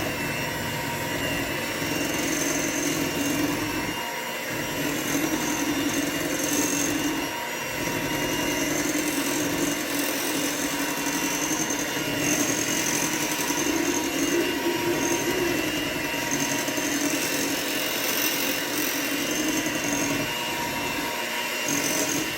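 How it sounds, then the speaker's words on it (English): An electric mixer runs at slow speed, blending liquid and powder into a simple cake batter, giving a steady, close mechanical whirring drone that continues without a break for the whole stretch. "just turn it on as slow as, and then just start mixing it in"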